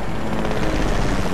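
A helicopter in the Fortnite video game roars loud and close, its continuous rotor thrum and engine whine steady throughout with no talking.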